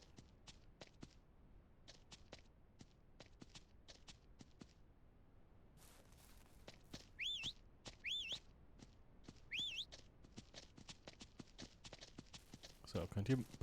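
Horse hooves clip-clop in a steady walking rhythm in the video game Ranch Simulator, interrupted by a few short whistled chirps, with a brief clatter near the end.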